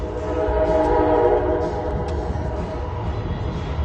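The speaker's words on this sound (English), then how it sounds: "That horn you just heard was Amtrak." An Amtrak train horn sounds in the distance, a steady tonal blast held for about a second and a half over a continuous low rumble of rail and outdoor ambience.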